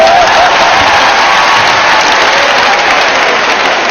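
A large crowd at a live show claps and cheers loudly and continuously, a dense, steady roar of applause filling the whole few seconds.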